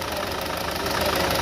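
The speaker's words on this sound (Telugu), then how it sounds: "Engine sound." A car engine idles steadily during a check for a pickup problem, with a continuous even rumble and light knocking at close range, heard alone without speech.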